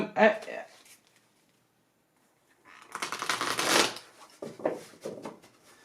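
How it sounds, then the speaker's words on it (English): Oracle cards being shuffled close by in two bursts: a brief flutter at the start, then a longer riffling rush of sliding cards followed by a few softer taps as the deck settles. "I'm going to do some oracle cards here"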